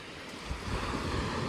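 Ocean waves wash near the seashore in a steady, close rush of surf mixed with gusty wind noise, with no voices heard.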